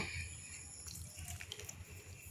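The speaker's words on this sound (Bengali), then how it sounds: "যে বাটিতে সুজিটা ভিজিয়ে রেখেছিলাম সেই বাটিটা ধুয়ে আমি কিছুটা জল দিয়ে দেব" Water is poured from a rinsed bowl that had held soaked semolina into semolina batter with curry leaves, a faint, soft splashing trickle beginning about a second in and continuing quietly.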